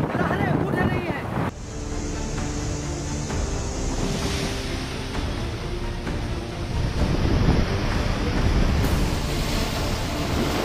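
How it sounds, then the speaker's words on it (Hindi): High storm waves on the Arabian Sea whipped up by Cyclone Biparjoy, a continuous roaring wash of surf with heavy wind buffeting the microphone, loud and close, with faint voices mixed in. "ये अरब सागर है और तूफान के कारण जो है समुद्र में जो है ऊंची ऊंची लहरें उठ रही हैं।"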